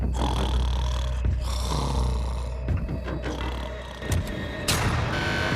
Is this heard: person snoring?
yes